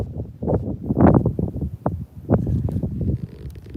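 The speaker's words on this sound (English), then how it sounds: "Very windy." Strong wind buffets the microphone on the Texas coast, loud uneven rumbling gusts that surge and fade throughout, with no talking.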